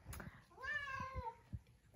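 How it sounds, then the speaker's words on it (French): A curious cat gives one clear drawn-out meow, close and fairly quiet, with soft room bumps around it. "Et on a un chat qui est vraiment très curieux."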